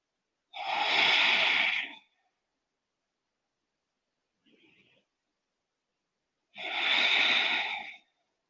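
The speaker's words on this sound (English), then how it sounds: "Breathing deeply here." Deep, slow breaths during a yoga session, two long airy exhales about five seconds apart with a faint short breath between them, close and fairly soft with no talking.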